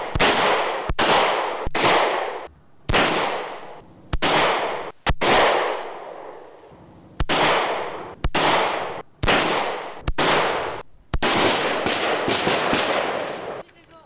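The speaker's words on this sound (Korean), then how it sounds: "특공대원들은 모두 5발씩 연속 발사했다" Rapid sharp rifle shots ring out in a series of about a dozen loud cracks, each decaying into echo, as special forces soldiers fire five rounds apiece on an outdoor range.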